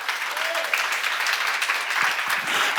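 A church congregation at a seminar gives a round of applause, a continuous, fairly loud wash of many hands clapping that holds steady for a few seconds with no speech over it.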